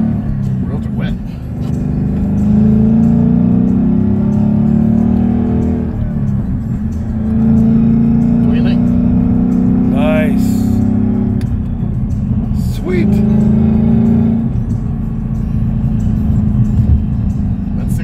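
A Shelby Super Snake engine revs and pulls hard on wet roads, a loud, close, steady rumbling drone heard from inside the car with a brief rising whine around the middle, with people talking over it.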